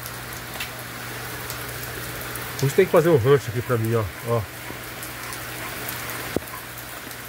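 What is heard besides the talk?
heavy rain falling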